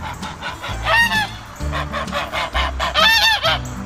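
Backyard poultry kept for garden work call noisily, loud honking squawks in repeated bursts from close by, layered over each other with no talking.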